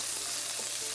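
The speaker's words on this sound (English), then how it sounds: "we'll saute shallots with onions and bay leaves and black pepper" Shallots, onions, bay leaves and black pepper sauté in a hot pan on a cooking show, giving a steady, close, moderately loud sizzle with a faint stirring texture and no talk.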